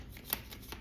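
A quick, soft riffle of cards being shuffled, a short papery flutter with no talking.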